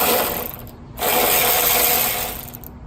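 A ratchet with a 14 mm socket works a strut nut on a Honda Civic, giving rapid close clicking pawl bursts with a short pause between strokes, no voices.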